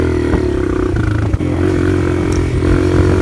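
Kawasaki KLX140RF dirt bike, a 2023 model with modifications, idles and pulls away, its engine a steady close drone with a brief clatter midway and no talk.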